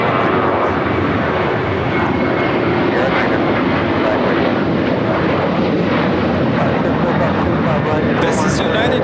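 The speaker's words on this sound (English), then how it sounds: "This is United Airlines 1395 taking off to Austin on the 737-800" A United Airlines Boeing 737-800 takes off at LAX with a loud, sustained jet roar that stays constant, while voices talk faintly underneath.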